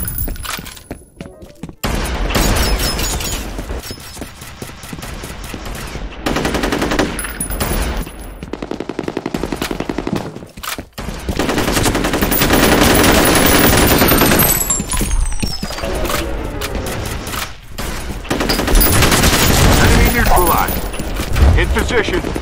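Gunfire in the video game F.E.A.R. Combat: loud, dense bursts of automatic fire and single shots come in waves with short pauses between them, with occasional voices in the mix.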